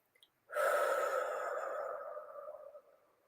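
A single slow, breathy exhale from a person during a relaxation breathing exercise, close and distinct, fading gradually over about two and a half seconds with no talking.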